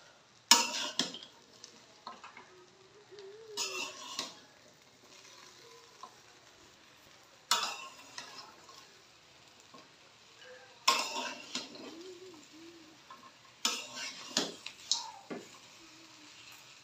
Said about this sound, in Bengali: একটু নাড়াচাড়া দিয়ে তেলটা মিশাইয়া তারপরে বাকি সব দিতেছি।